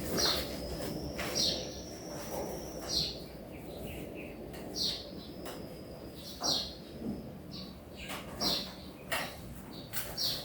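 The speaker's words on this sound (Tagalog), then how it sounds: "Ayun mga ibo. Ganyan po ang kanilang mga huni." Birds calling outdoors in the morning, a series of short high chirps repeating every second or so over a steady background hum, moderately near and fairly soft.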